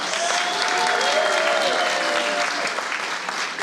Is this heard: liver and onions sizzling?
no